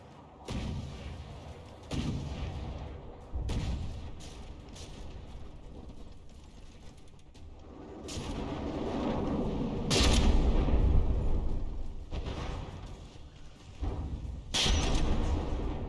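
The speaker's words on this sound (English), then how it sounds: "it's still got this front gun plugging away" A warship's front gun fires in From The Depths, booming repeatedly at irregular intervals amid a steady din of battle, with a heavier, longer roar rising partway through.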